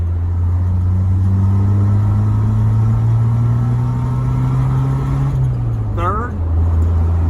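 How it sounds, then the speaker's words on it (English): A 1991 Jeep Wrangler YJ engine drones steadily on a test drive, its pitch climbing slowly through a gear, then dropping as the driver shifts, with a brief voice near the change. "let's shift through the gears a little bit, see how she feels"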